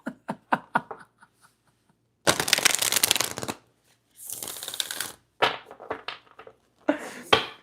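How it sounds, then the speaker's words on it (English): Tarot cards are shuffled up close in two long riffling bursts, bracketed by quick taps and shorter card rustles, loud against a silent background. "Let me just shuffle these cards."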